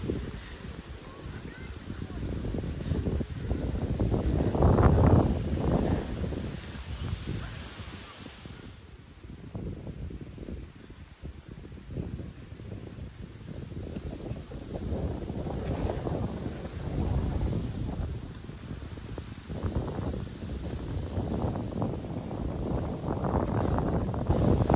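Gusty, cold wind in a park in Kryvyi Rih, Ukraine, buffets the microphone in low rumbling surges, rising and falling, with people talking over it outdoors.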